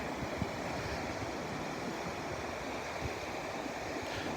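Pacific Ocean surf on the rugged Northern California coast near the San Andreas fault, a steady broad wash of breaking waves with some wind rumble, no voices.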